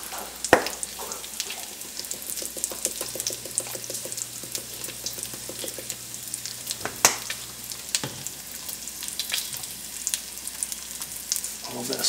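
Seasoned peppers fry in bacon grease for a breakfast burrito, a constant close sizzle and crackle with occasional spatula scrapes and a faint steady hum beneath.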